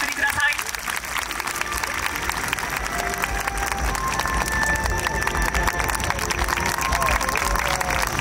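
A festival audience at a dance festival awards ceremony applauds steadily and densely throughout, a sustained wash of clapping with some crowd noise, heard from within the crowd.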